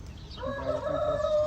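A rooster crows once, loud and close, a single drawn-out call that rises and holds.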